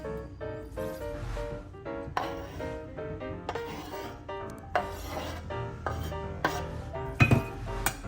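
Diced tomato being stirred into a lentil salad with a utensil in a bowl, giving repeated scraping, rubbing knocks at an uneven rhythm, close and fairly clear.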